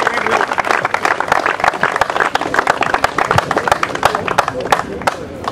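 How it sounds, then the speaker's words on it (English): Applause from the crowd at an award ceremony after the Greenline Independence Cup cricket final, with dense, steady clapping sustained for several seconds, close and fairly loud, with some voices mixed in. "Can we have a round of applause, please?"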